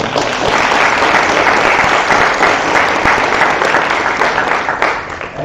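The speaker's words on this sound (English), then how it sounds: "let's give them a round of applause" A crowd applauds at a stuttering association open house in Baton Rouge, Louisiana, with loud, dense, continuous clapping that stays strong throughout and eases slightly near the end.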